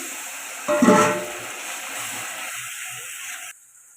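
Chopped tomato, turmeric and spice-rinsing water land in a hot pan with a sudden gushing sizzle, which settles into a softer, steady hiss of cooking that cuts off near the end.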